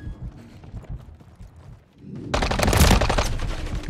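Gunfire in the video game Modern Warfare 3: after quieter scattered in-game sounds, a dense burst of rapid shots erupts and continues loudly to the end.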